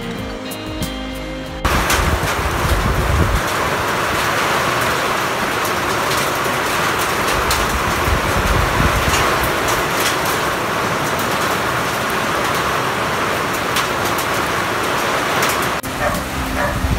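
A storm with strong wind and heavy rain sweeps past at a home garden, a loud, dense, continuous roar and rush that runs for about fourteen seconds after a brief quieter opening, with no voices.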